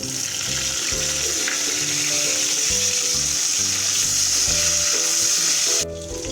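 Onions and tomatoes frying in a pan for beef keema pulao, a loud, continuous sizzle with crackling close by. Low clatter runs underneath, and the frying cuts off abruptly near the end.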